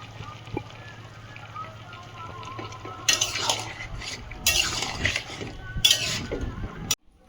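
Prawns and eggplant fry in a curry while a spoon stirs them, making bursts of loud scraping and clattering against the pot over a low, steady sizzle.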